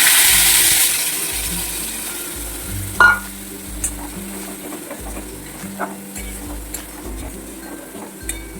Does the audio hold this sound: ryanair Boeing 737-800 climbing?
no